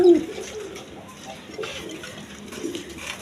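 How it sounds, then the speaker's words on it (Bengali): High flying Giribaz pigeons coo softly at a farm, with low murmuring calls repeating under faint background noise. "দেখেন হাই ফ্লাইং গিরিবাস কবুতর, হাই ফ্লাইং গিরিবাস কবুতর।"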